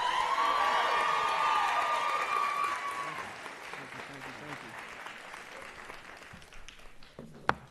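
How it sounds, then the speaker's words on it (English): An audience at an evening convocation applauds the student speaker, loud, dense clapping with some cheering that gradually fades over several seconds, with voices heard at the start. "Can we give him a round of applause,"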